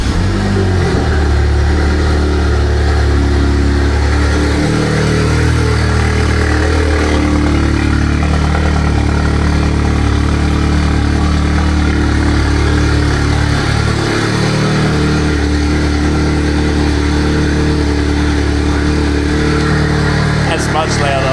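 A car engine fitted with a new ARM Motorsport 4.5 downpipe exhaust runs loud and steady from start to finish, a continuous low rumble with slight rev changes and no speech over it.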